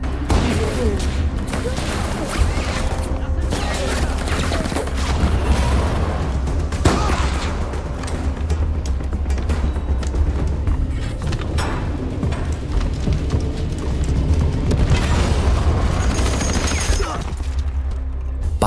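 Battle in a film in which a German cannon is blown up: sustained loud booms, bursts and volleys of gunfire over a dense continuous rumble, with voices mixed in.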